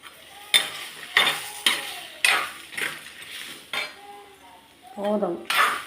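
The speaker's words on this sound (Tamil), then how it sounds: "முதல்ல இதை நல்லா வறுத்துருவோம்." Repeated scraping and clinking of a utensil against a pan in irregular strokes, with a faint dry rustle of spices dry-roasting for channa kulambu between scrapes.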